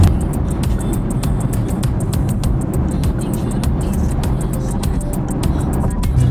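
Steady road rumble from a car cruising along, a continuous low drone with tire hiss and faint ticking, with no talking.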